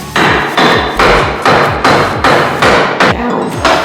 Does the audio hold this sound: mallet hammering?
yes